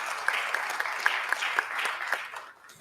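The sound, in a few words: round of applause at conference panel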